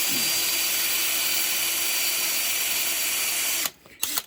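Power drill boring out a bolt on a Honda CL350/CB350 motorcycle, a steady high whirring drone running continuously for nearly four seconds before cutting out into a couple of short bumps.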